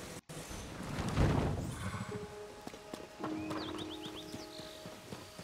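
A horse in a Zelda game set in Hyrule gallops with rhythmic hoofbeats, joined by a whinny and chirpy game sound effects, all moderately loud and close.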